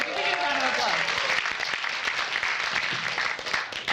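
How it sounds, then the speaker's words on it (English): Audience applause at a web research conference session, a broad wash of clapping filling the whole stretch, with voices mixed in underneath, especially early on. "Can we get a round of applause?"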